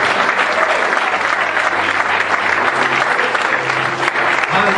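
A church congregation breaks into loud, sustained applause, dense clapping from a large crowd filling the space evenly throughout.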